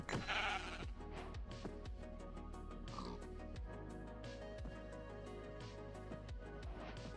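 Sheep bleating in the Minecraft video game, a clear bleat at the start over steady game background sounds and rhythmic clicks.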